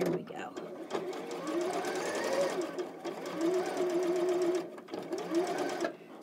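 Home sewing machine stitching a quilt block, run by a foot pedal, whirring in steady bursts with brief pauses and changes in speed, close by, under occasional quiet talk.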